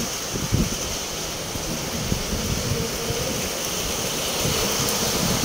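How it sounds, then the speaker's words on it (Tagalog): Rain and wind outdoors at Treasure Mountain: a steady, dense hiss of rainfall with a low gusting wind rumble that holds evenly throughout, with no voices. "Inaabot tayo ng ulan."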